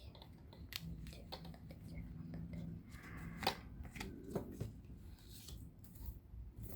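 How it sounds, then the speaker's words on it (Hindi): Tarot cards are drawn and shuffled by hand, giving soft, close papery riffles and slides with light taps, while someone talks quietly throughout. "तो चलिए अब हम कार्ड निकाल लेते हैं।"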